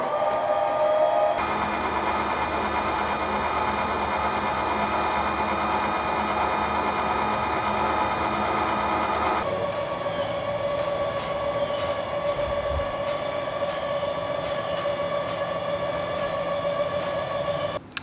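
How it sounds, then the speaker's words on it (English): Hydraulic leveling jacks on a fifth wheel RV raise the rig to hitch height, a loud continuous motor whine and hum that shifts pitch midway, then settles into a steadier drone with faint rhythmic ticks. "it lifted up all of the jacks except for the front ones"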